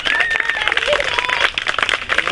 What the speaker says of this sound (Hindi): तालियां बजा दो बच्चों आज।